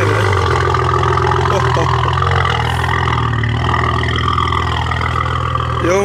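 A Maserati engine runs with a deep, steady rumble close by, a bright throb layered over busy outdoor noise at a gala, with people talking over it.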